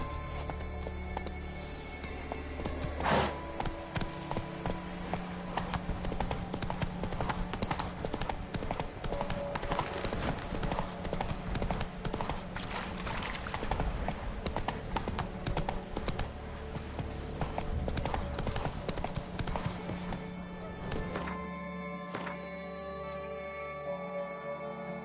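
Roach, the horse in Witcher 3, gallops with steady rapid clip-clop hoofbeats throughout, loud and close over game music and ambience, with brief voice moments.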